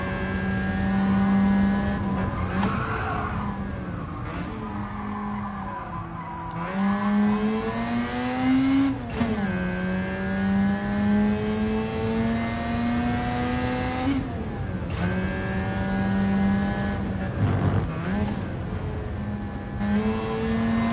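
Race car engine in Gran Turismo on PS5, revving hard through the gears with a steady climbing drone, sharp drops at each shift and a few brief dips, loud and close throughout with no talking.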